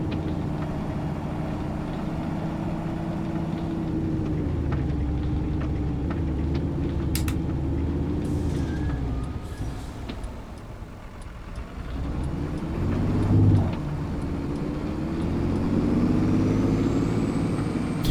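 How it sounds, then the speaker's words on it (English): A heavy tractor engine drones steadily, a faint high turbo whistle riding above it as revs dip and climb again toward the end. "Listen to that turbo whistle."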